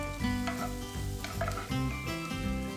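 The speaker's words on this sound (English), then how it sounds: "Then you saute the onion until the onion turns transparent. Add the bacon back." Onion and bacon sizzle and fry steadily in a hot pan for fried rice, a continuous close crackle with soft stirring scrapes and no talk over it.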